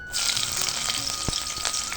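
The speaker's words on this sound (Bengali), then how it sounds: "কড়াইতে দিয়ে দিলাম সরষের তেল, দিয়ে দেবো কাঁচা লঙ্কার কুচো" Chopped green chillies hit hot mustard oil in a wok, setting off a sudden, loud, continuous sizzle with scattered pops and no talking.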